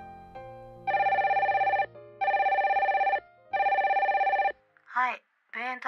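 A telephone in a Japanese voice drama rings three times in even, buzzing bursts, loud and clear against quiet. A voice follows right after the last ring.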